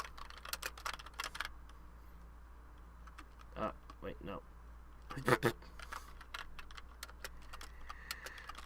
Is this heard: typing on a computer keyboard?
yes